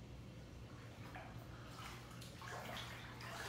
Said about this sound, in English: we got water in our basement last year from a massive storm